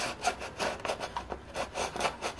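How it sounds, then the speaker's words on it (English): Wood is sawn by hand in quick, rhythmic back-and-forth strokes, a close scratchy rasp repeating several times a second. "I have to make sure I don't go too deep and cut into the"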